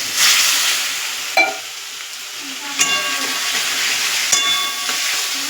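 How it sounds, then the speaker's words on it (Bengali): Masala for egg curry sizzles and fries steadily in a pan while being stirred, a continuous close hiss broken by a few sharp clinks of the spoon against the pan. "দিয়ে কিছুক্ষণ নাড়াচাড়া দেবো।"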